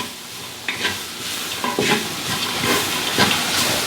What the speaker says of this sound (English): It gets hot as you saute.